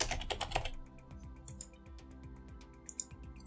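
Typing on a computer keyboard during a CSS coding lesson, a close run of quick, light key clicks with a brief denser burst at the start, then steady irregular tapping.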